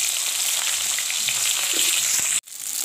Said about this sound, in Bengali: এখন আমি মাছ ভাজা তেলেই ফুলকপিগুলো আর আলুগুলোকে হালকাভাবে ভেজে নিচ্ছি।